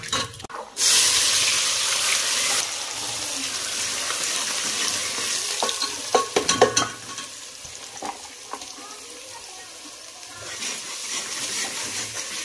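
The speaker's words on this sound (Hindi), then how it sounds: "यहाँ हमारा ऑयल होता है गरम।" Oil heats and fries in a pan. After a brief thud, a loud hissing sizzle starts and settles into steady frying, with a burst of clattering stirring and pan knocks partway through, then a quieter, even sizzle.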